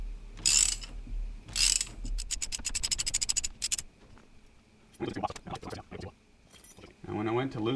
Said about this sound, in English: what we have here is a T50 Torx bit, and I have it reduced up to, or adapted up to a 1/2 inch drive